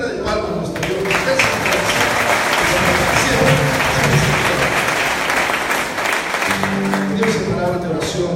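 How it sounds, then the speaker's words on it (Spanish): Church congregation applauding together as an offering of praise, a steady dense clapping that fills the whole stretch at close range, with music or voices faintly mixed beneath. "Denle una ofrenda de palmas a nuestro Dios."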